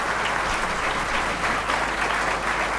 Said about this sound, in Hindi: जोरदार ताली से स्वागत करेंगे